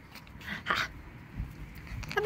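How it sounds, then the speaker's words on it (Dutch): Four-week-old puppies whimper and yip faintly in short, scattered bursts against a quiet outdoor background, thin high cries coming and going. "Hey, boefies! Puppies!"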